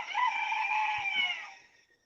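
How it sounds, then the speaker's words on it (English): A rooster crows in the morning, one long drawn-out cock-a-doodle-doo held close and loud before it tails off, with nobody talking over it. "ain't nothing like listening to roosters in the morning"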